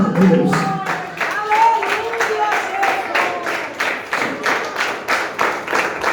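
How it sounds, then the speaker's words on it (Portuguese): A church congregation claps hands together in a steady rhythmic beat during a worship service, the regular claps continuing throughout, with some voices underneath at the start. "Pode bater as palmas para Deus."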